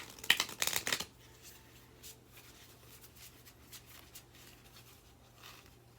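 Affirmation cards being shuffled, a quick close flurry of riffling card flicks lasting about a second, followed by faint soft handling sounds in a quiet room.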